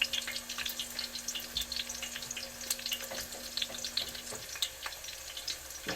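Steady crackling and popping of chicken frying in hot oil, close by, with a faint hum in the background.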